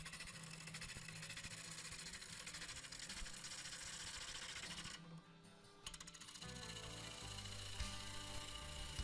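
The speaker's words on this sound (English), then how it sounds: "Now I'm setting up and I'm cutting off the rim, making it nice and flat" A woodturning gouge cuts the rim of a dry wooden bowl spinning on a lathe, giving a steady, loud scraping and whirring that breaks off briefly in the middle before resuming.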